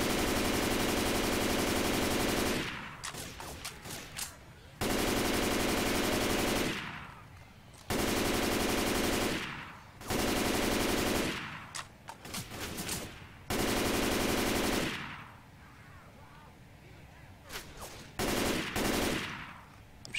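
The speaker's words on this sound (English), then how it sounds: "shooting a hubcap." Long sustained automatic-weapon bursts in Left 4 Dead 2, aimed at a hubcap, come in five loud, evenly spaced volleys of about two seconds each, with short clattering shots and pauses between.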